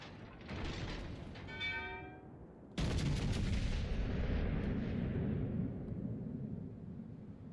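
Naval gunfire in World of Warships Legends as an enemy battleship is destroyed: a rolling boom, a brief rising tonal cue, then a sudden loud blast that decays into a long rumbling roar.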